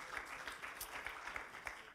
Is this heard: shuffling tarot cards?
no